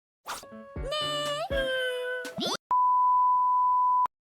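An anime cat gives a few short, rising meows, followed by a long, steady electronic beep that ends abruptly.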